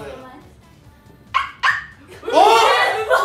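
A person imitates a dog: two short, sharp yips followed by a longer, whiny barking yelp, all close and loud in a quiet room.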